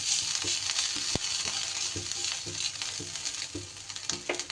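Grated ginger sizzling in hot oil in a pan, a bright continuous crackle with light repeated taps of stirring scattered through it.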